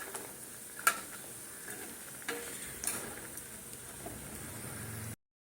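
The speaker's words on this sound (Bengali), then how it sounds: "সর্ষে তেলের মধ্যে বড়িগুলো দিয়ে ভেজে নিচ্ছি" Lentil dumplings (bori) frying in mustard oil give a quiet, steady sizzle with a couple of faint clicks from the pan, then it cuts off abruptly near the end.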